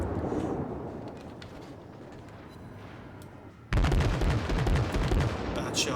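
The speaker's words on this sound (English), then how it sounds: "Someone's shooting at me." Naval gunfire in World of Warships: a steady low rumble of battle, then a sudden loud burst of heavy cannon fire with dense overlapping booms that carries on to the end.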